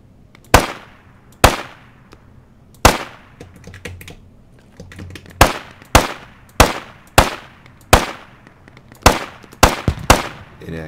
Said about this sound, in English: Inaccurate fire, but I don't care. I just want to scare them.